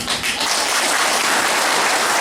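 An audience at a Safe Shop direct-selling event claps loudly and continuously, a dense close burst of applause that holds steady to the end.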